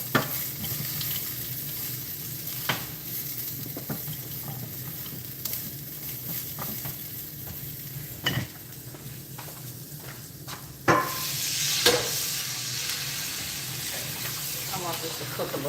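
Broccolini frying in a pan, a constant hissing sizzle with occasional bursts of steam and a few sharp clacks of a utensil stirring and scraping, close and steady with no talk.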